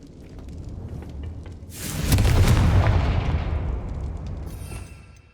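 A Confringo fire spell in Hogwarts Legacy detonates in a loud, booming blast that swells and rumbles for several seconds before slowly fading away.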